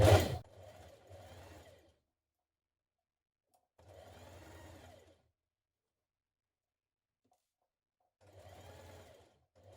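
A domestic sewing machine stitches straight off the edge of a dart in a shirtdress, running in three separate bursts: a short loud start, then two steady whirring runs with quiet pauses between them.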